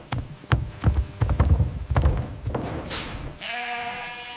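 A sheep bleats near the end, a wavering nasal call following a run of soft thumps and shuffling knocks, just after shearing in the Chilean desert.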